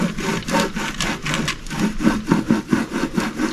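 A John Deere 6210R tractor's PTO running rough, a close, grinding mechanical churn with an uneven, pulsing rhythm of several beats per second, heard alone without speech.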